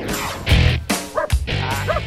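A female German Shepherd barks outdoors in several loud, close bursts with short gaps between them, some with a yelping edge.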